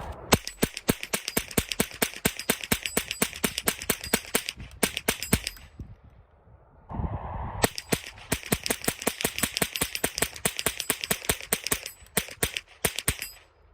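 A CMMG .22LR conversion kit fires Aguila Super Extra hollow points in rapid, closely spaced sharp cracks, loud and near, with a short pause of a few seconds before another fast string of shots resumes.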